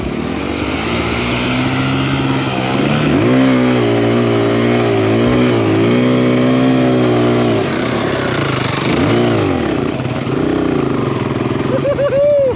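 Kawasaki KLX140RF dirt bikes rev hard through mud, several engines whining and rising and falling in pitch together, loud and close for the whole stretch.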